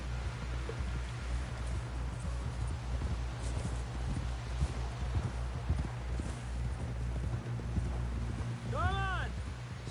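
Horse hooves clip-clop steadily in the Red Dead Redemption video game, a rhythmic clatter over a low rumble, with a brief whinny near the end and no talk over it.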